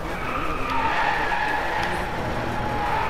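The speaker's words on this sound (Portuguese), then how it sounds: "eu já tô aprendendo aqui a fazer drift nesse jogo" BMW M235i drifting in the DRIVECLUB racing video game, a steady sustained tire skid and squeal over engine drone, continuous and moderately loud with no talking.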